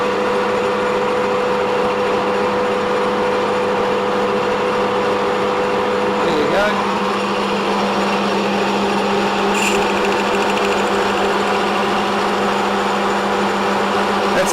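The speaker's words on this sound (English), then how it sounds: "When we up the speed, we up the feed. You're probably going to hear that in the lathe." A metal lathe cutting across the face at increased speed and feed, giving a steady, loud, close machining whine with a constant hum and a few brief scrapes.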